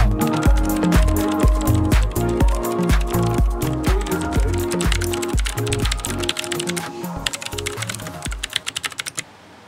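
Fast, steady typing on a computer keyboard, close up, with crisp clacking keystrokes in a continuous rhythm and no voices.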